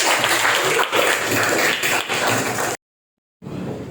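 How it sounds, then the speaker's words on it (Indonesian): Students in a classroom clap for a classmate, a dense burst of applause lasting nearly three seconds, then a short silence before more clapping resumes. "Silakan tepuk tangan buat Krisna."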